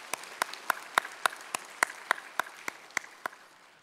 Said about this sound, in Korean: 다 함께 힘찬 박수로 환영하겠습니다.